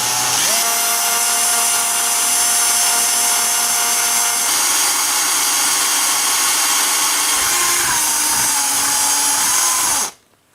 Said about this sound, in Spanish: Vamos a utilizar un taladro atornillador y una broca de 4 milímetros para hacer el taladro